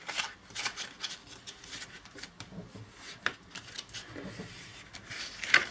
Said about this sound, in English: Now we can fold in these two flaps.